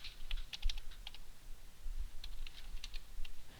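Someone types on a computer keyboard in quick clusters of close, crisp key clicks, with a short pause midway before another burst of typing.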